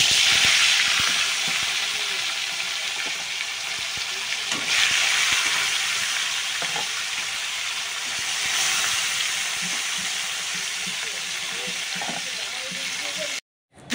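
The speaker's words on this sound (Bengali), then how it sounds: "তো এবার মাছটা ভেজে নেব।" Fish frying in hot oil in a wok, a steady loud sizzle and hiss with occasional small pops, holding throughout before cutting off abruptly at the end.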